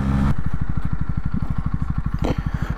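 Honda CB125R motorcycle pulling away, its single-cylinder engine revving into a steady pulsing exhaust beat after a brief idle, loud and close with a short gear change near the end.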